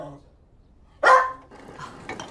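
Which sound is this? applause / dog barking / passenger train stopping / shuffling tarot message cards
dog barking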